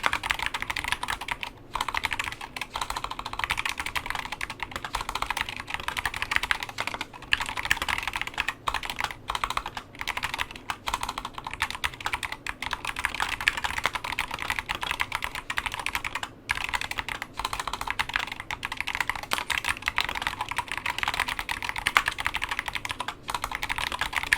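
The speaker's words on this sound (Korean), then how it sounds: "자 그럼 한번 간단하게 타건 먼저 진행을 해보겠습니다" Steady keystrokes on a SteelSeries Apex Pro TKL keyboard with factory-lubricated magnetic switches, a continuous run of quiet, muted clacks typed at a brisk, even pace for the whole stretch, close up with no voices.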